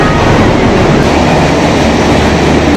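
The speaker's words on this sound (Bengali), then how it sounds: "এই যে আমাদের ট্রেন ঢুকে গেছে, শেওড়াফুলি লোকাল।" A Sheoraphuli local train rolls into the station with a loud, continuous rumbling roar of wheels and carriages that holds steady throughout.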